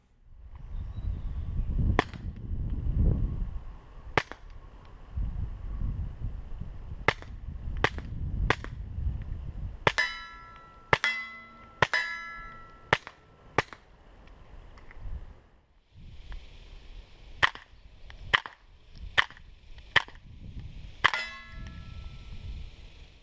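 Suppressed gunfire through a Rugged Oculus suppressor, fired from both rifles and a pistol: a sequence of sharp, muffled reports, some spaced and some in quick bursts, with occasional metallic pings between shots and no voices.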